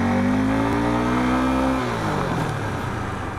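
A Suzuki Gixxer 250 motorcycle engine pulls in first gear on a residential street, a close, loud rising drone that drops in pitch as the rider eases off, with no talking.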